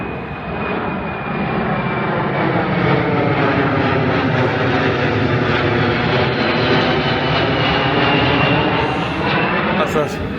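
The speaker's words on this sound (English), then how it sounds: "Here's that big plane again." A big plane passes overhead near a railway line, a loud, sustained engine roar that swells and holds for the whole stretch, with a faint voice in the background.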